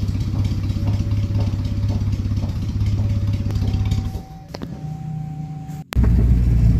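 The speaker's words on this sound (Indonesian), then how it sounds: "dan ini keadaan mobil setelah diganti ring sehernya" Engine of a Suzuki Carry ST-100 minivan running after a piston ring replacement: a steady, close rumbling idle with a rhythmic clatter, a dip and brief change partway through, then a louder, fuller run at the end.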